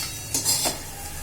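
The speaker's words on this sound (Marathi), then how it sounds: "आता हलवून घेते." A spoon stirs a vegetable dish with ground peanuts in a pan, giving a quick pair of close scraping clinks that fade into quiet kitchen background.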